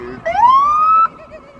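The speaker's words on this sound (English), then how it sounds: "this police car wants to move through here." A police car siren in downtown Chicago on Washington Street gives a single loud, close rising wail that sweeps up and then cuts off abruptly, followed by quieter street background.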